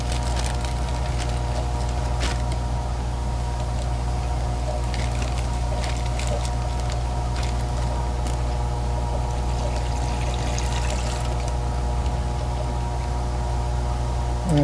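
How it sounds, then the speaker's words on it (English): Water pours steadily into a plastic shipping bag of live shrimp during breeder packing, a continuous close trickle running throughout over a constant low hum, with no talk. "This one could use a bit more water."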